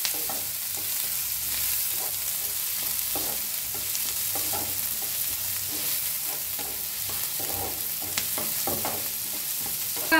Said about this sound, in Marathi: तर याला छान असं भाजून घेऊया आपण.